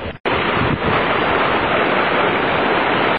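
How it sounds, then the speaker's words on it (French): Strong wind buffeting the microphone on a Corsican fishing outing, a loud, continuous roar of gusts that briefly cuts out at the start and end, with no voices. "il y a un vent de fou"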